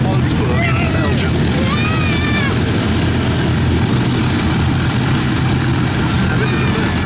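Two Beechcraft Staggerwing biplanes flying at the Duxford Battle of Britain airshow, a loud steady propeller-engine drone with wavering pitch, sustained over the whole stretch, with no talk.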